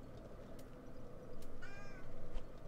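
A domestic cat gives a short meow in a room, faint and somewhat distant over a low steady hum, with no one speaking.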